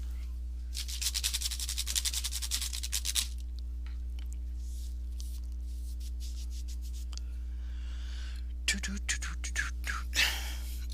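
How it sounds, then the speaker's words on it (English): Bristles of a paint brush rubbed and wiped to clear off leftover yellow paint during a floral painting lesson, a soft close brushing burst for a few seconds, then quiet before a few short scrubbing strokes near the end. "I'll just clean off the brush real quick here"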